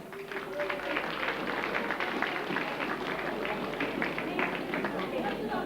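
A crowd at a 1983 carnival sitting evening in Horst applauds the musicians with sustained, dense clapping that holds at an even level for several seconds, mixed with some crowd chatter.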